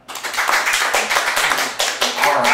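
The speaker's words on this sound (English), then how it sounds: "Round of applause," Crowd at a live storytelling comedy show clapping, loud close rippling applause with distinct individual claps, swelling in waves over a couple of seconds.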